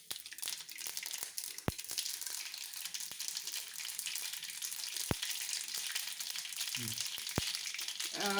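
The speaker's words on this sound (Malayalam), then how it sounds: "ഇവിടെ എണ്ണ ചൂടായി വന്നിട്ടുണ്ട്. ഞാൻ എടുത്തു വെച്ചിരുന്ന കടുക് ആദ്യം ഇടുകയാണ്" Half a teaspoon of mustard seeds hit hot oil for a Kerala-style nadan fish curry, giving a steady frying hiss broken by a few sharp, separate pops and crackles close by.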